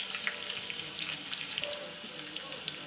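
Chillies frying in oil for a dhokla tempering crackle and sizzle close up, with scattered sharp pops over a steady hissing bed and no talking.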